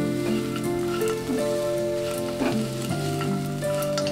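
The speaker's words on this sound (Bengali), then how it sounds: "এবার ভেজে রাখা বাদাম মিশিয়ে দিলাম" Fried peanuts being stirred into puffed rice upma in a pan, with a steady soft sizzle and scraping stir strokes over continuous background music.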